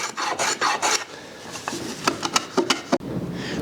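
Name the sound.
filing a small chamfer on wooden joint corners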